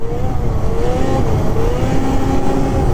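A Ski-Doo-style 600 Catalyst snowmobile engine sits close and loud, blipped through short repeated revs with a steady buzzing drone and rising and falling pitch, no voices.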